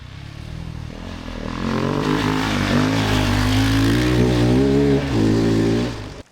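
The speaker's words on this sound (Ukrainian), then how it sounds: "Звучить мотик прикольно, як нормальна 450-ка, доволі бойовий агресивний звук." A KOVE 450 Rally 450cc motorcycle engine revs hard and aggressively, the throttle held up for several seconds before dropping off, loud and close.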